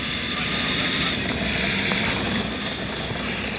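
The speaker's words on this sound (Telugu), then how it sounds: "అదిగోండి మన ట్రైన్ కూడా వచ్చేసింది." A train pulling in within the video game Indian Theft Auto, a steady mechanical rumble and hum with a thin high whine that rises toward the end.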